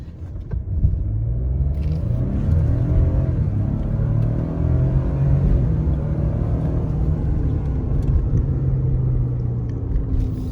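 A 2018-19 Ford F150 EcoBoost truck launches off the brake, its engine rumbling loudly and rising in pitch through the gears as it accelerates, heard from inside the cab.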